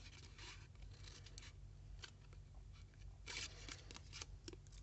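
Scissors cut paper for a Cinderella pop-up scrapbook album, giving faint, scattered snips and crisp rustles at close range against a quiet room hiss.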